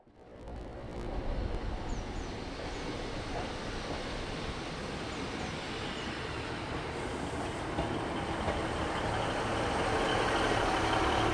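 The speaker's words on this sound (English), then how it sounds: "here comes the train that'll take us to the seaside" Two coupled Class 150 diesel units arrive on the St Ives branch line in West Cornwall, a steady rumble of engine and wheels building slightly louder, close by, with no talk.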